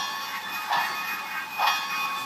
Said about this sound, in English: That's a good little train. Very smooth. It can crawl.